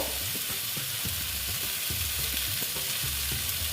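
Pumpkin sautés slowly with five-spice in a pan for a vegetarian curry, a loud, dense sizzle with rhythmic low scraping of the spatula repeating every half second or so.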